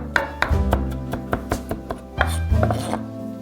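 A knife chopping fresh spinach finely on a board, a string of sharp, evenly spaced taps in a quick rhythm, close and clear with no voices.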